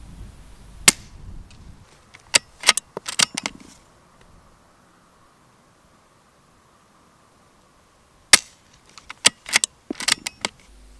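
Suppressed shots from a Ruger American .22 LR rimfire rifle fitted with a sound moderator: sharp, short cracks in two loose clusters, a few isolated reports then quick runs of shots, separated by several seconds of near silence.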